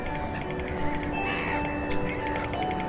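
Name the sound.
seabirds calling at rocky coastal point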